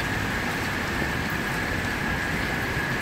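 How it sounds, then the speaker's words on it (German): Light rain falling at a typical Singapore bus stop, a steady dense hiss of drops on surfaces with no pauses, fairly close and even, with a thin high tone running through it. "leichten Regen die Rede ist, dann sieht es ungefähr so aus."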